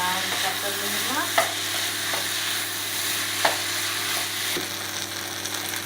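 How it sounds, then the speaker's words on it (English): Chicken fried rice is stir-fried in a pan until dry and crispy: a continuous close sizzle with scraping stir strokes and a couple of sharper utensil knocks. "So maybe stir fry around a couple minutes more."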